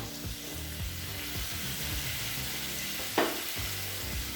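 Mixed vegetables — carrot, raw plantain, potato, drumstick and brinjal — sautéing in a pan for village-style kootanchoru, giving a steady close sizzle with soft stirring scrapes and one brief louder clatter near the end.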